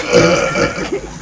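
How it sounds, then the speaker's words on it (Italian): A single loud, drawn-out burp ripples close to the microphone on stage during a burping contest, held for about a second before a short rough tail. "Sono due stronzi che ruttano sul palco"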